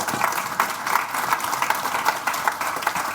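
Audience at a UK-ASEAN business forum applauding steadily, a dense wash of many hands clapping at even loudness throughout, with no speech over it.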